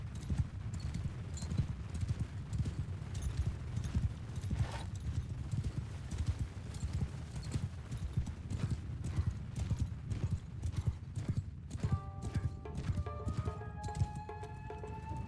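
Horses gallop across an open-field battle in the samurai video game Shokuho, a dense, steady clip-clop of many hooves at moderate volume, with faint battle noise and a few tonal effects near the end.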